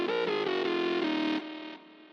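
A sustained, gliding dubstep bass synth tone drenched in hybrid reverb and delay, filtered so its brightness shifts before it drops and fades into a washed-out tail.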